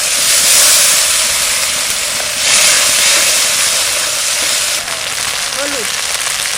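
Water hits a hot pan with ginger and garlic, producing a loud, steady hissing sizzle that stays strong throughout with slight surges, and a brief voice near the end.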